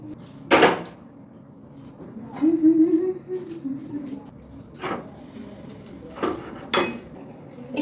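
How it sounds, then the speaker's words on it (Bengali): A steel bowl set down on a gas stove in a home kitchen gives a few sharp metallic clinks and knocks, with scattered quieter clatter between them and no talking. "স্টিলের বাটিটাই বসিয়ে দিলাম আজকে আর আলাদা করে আর কড়াই করলাম না"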